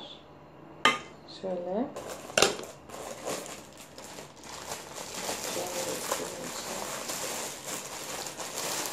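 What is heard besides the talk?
handling cooking pot and lid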